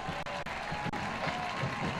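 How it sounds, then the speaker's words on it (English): FC Dallas fans applauding from the stands at Toyota Stadium during a US Open Cup semifinal match, a steady distant crowd wash of clapping. "To a round of applause from all the FC Dallas fans who are seated on the near side of the field here tonight at Toyota Stadium"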